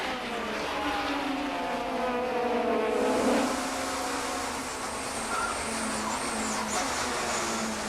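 Renault and Vauxhall touring cars race in the 1993 British Touring Car Championship, engines droning loudly and rising and falling in pitch through gear changes around a hairpin, sustained and close.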